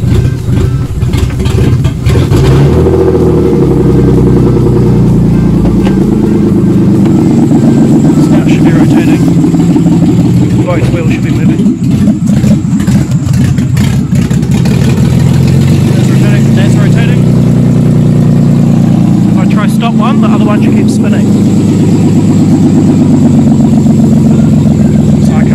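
A BMW E46 drift build idles after starting, a loud, close, steady engine rumble that stays level with slight wavering in pitch, and someone talks over it in places.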